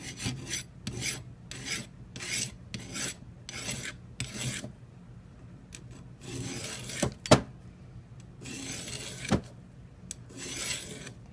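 A knife blade is drawn through a SharpensBest sharpener in a steady series of short rasping strokes, close and fairly quiet, with a couple of sharper clicks between passes.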